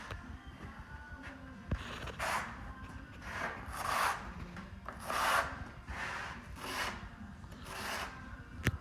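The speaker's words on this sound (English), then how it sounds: "I'm gonna run my trowel then over the top of this to get some good bond" A trowel spreads thinset mortar over a tile frame in repeated scraping strokes, a rough rhythmic rasp about once per second, quiet and close.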